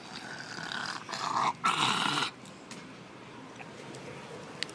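Dogs growling close by in a few short, rough bursts over a low background hum, then settling into quieter noise.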